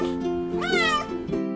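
A cat gives a single drawn-out meow, rising then falling in pitch, clear and close with no other sounds.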